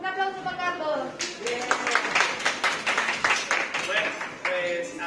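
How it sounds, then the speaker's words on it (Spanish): A crowd breaks into applause after a voice, clapping steadily for a few seconds before talking resumes over it. "Un aplauso para Carlos."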